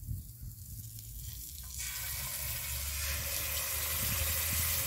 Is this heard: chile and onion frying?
yes